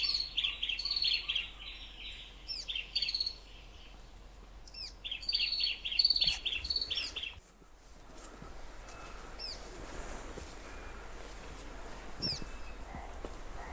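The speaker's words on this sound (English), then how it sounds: "The forest is alive with the sounds of birds and insects." Repeated bird chirps and calls ring out over a constant hum of insects, with the birds fading away midway and the insect drone continuing.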